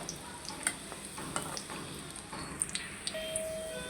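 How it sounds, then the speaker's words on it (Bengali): Egg chops frying in hot oil: a soft continuous sizzle with small crackles and faint clinks. Quiet background noise sits under it, and a brief tone sounds near the end. "এদিকে আমি ডিমের চপটা ভেজে নিতেছি"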